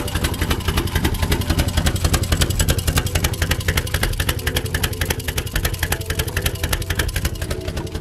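A Ford 4.6L engine idles with its exhaust running after a spark plug install, giving a loud, steady, rapid pulsing drone that holds evenly throughout.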